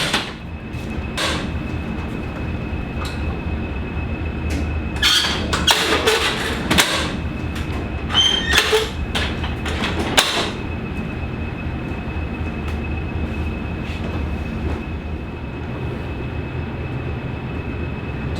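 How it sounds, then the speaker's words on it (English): A diesel multiple unit train arrives at Toddington on the Gloucestershire Warwickshire Steam Railway, rumbling nearby with a steady low roar, sharp metallic clanks and squeals scattered through, and a faint constant whine above it. "Let the DMU come in,"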